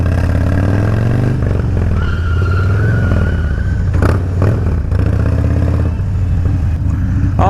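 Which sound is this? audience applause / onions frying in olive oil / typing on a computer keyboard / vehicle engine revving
vehicle engine revving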